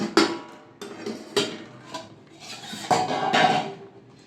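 A lid comes off a pot of boiled masoor dal and tomatoes, giving several sharp metallic clanks and clatters that are close and fairly loud, spread over a few seconds with short pauses between them.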